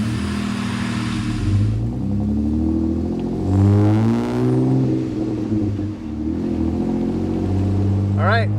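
A Jeep with a freshly swapped axle revs its engine on a test drive from garage to dirt, a steady loud droning rumble rising and falling in pitch with a brief whine near the end.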